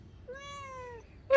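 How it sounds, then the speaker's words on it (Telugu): A pet cat gives a single clear, drawn-out meow, fairly close and alone, followed by a brief sharp noise at the end. "మీయో మీయో"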